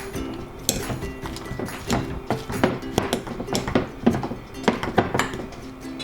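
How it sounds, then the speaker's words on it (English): Cooked sweet potato being mashed with a fork in a bowl: repeated close, uneven knocks and clinks of metal utensil against the bowl, in steady bursts with no talking. "Let's mash it."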